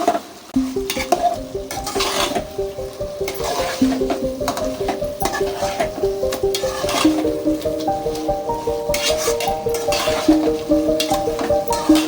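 Chicken fry in a pan being stirred after chili powder is added, with a spoon scraping and clanking rhythmically against the pan over a constant loud sizzle.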